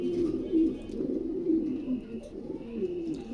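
Lahori pigeons coo in a soft, repeated low murmur, close and continuous, with faint background noise and no talk.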